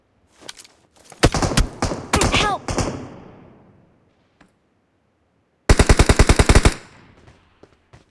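Gunfire in the PUBG Mobile video game: a few single shots, then a loud automatic burst with rapid clattering rounds, a pause, and another sharp tight burst, with a brief voice calling out in between.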